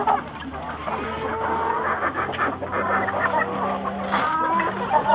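A Colombian hen clucks steadily amid a busy farmyard, its calls close and overlapping with other fowl and faint background noise, without any words spoken.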